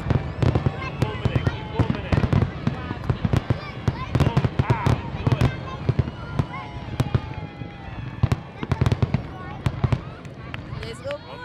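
Fireworks finale at Orchard Beach in the Bronx, a rapid barrage of loud sharp bangs and crackles in quick succession, with a crowd cheering and voices underneath.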